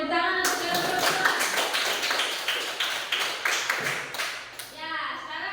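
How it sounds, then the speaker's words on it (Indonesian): A class of fourth-grade children claps together for their classmates, a quick burst of uneven, close hand claps that tapers off after a few seconds, with children's voices mixed in. "Oke, tepuk tangan untuk kelompok 2."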